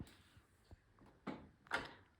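A toy kitchen drawer slides and knocks shut: two soft clacks, then a louder sliding thump, all faint and close, in a quiet room.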